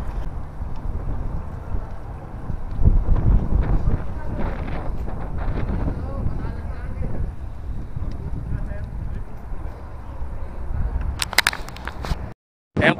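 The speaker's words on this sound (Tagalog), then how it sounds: "Ang hangin po, lakas ang hangin." Strong gusty headwind and crosswind batter the microphone while riding bicycles, a loud continuous buffeting rumble with surging gusts. A speaking voice comes through under the wind.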